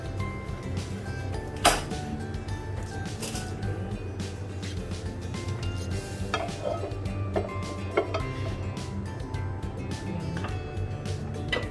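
Onions and garlic sauté in a pan for an escabeche of yellowfin tuna, a continuous close sizzle with scattered clanks and scrapes of a utensil against the pan.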